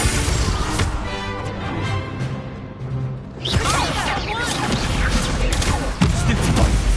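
Confringo blasting spells fired in the Hogwarts Legacy video game, a burst of crashing, thumping impacts and whooshes over a dense game soundtrack, with fresh blasts hitting around the middle and end.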